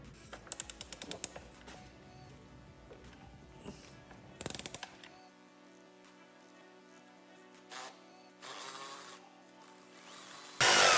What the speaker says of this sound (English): now we're gonna remove the upper shock bolt